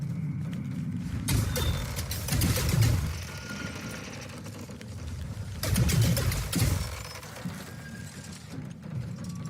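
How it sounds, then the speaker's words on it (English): A breakable object in the video game The Unfinished Swan creaks and groans in slow, swelling waves over a low rumbling bed, moderately quiet with no voices. "Those are some good creak noises, too. It really makes me think this thing is, like, breakable."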